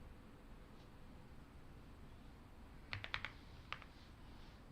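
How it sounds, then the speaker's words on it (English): Several quick keyboard keystrokes from a computer keyboard during a trading session, a short cluster of clicks followed by a single later tap, faint and close over a steady background hiss. "What am I typing here?"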